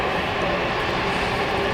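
Drag racing motorcycle at a Mancup World Finals event roaring down the quarter mile at full acceleration, a loud, continuous, dense engine roar filling the whole stretch with no talk over it.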